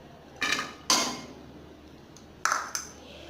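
A metal kadhai set down on a stove and onions tipped in, producing four sharp clanks and pings of metal on metal spaced across a few seconds, each ringing briefly and fading, with no talk.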